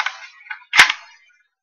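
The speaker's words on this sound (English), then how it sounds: "This is my BB pistol. It's pretty strong" An old, fairly powerful BB pistol fires once, giving a sharp, close snap with a short ringing tail, preceded by a few faint clicks of handling.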